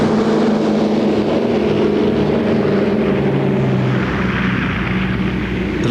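A Douglas DC-3 Dakota propeller airliner drones with a loud, steady engine roar that holds constant throughout, broadband and close, with no voices.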